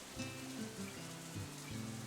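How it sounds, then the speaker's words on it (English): Steady rain falls in a Katawa Shoujo game scene, a soft continuous patter heard alone over a low background tone with no talk. "The rain just keeps falling."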